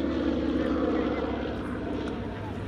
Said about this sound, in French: Ça c'est le P-47, donc l'avion russo-américain.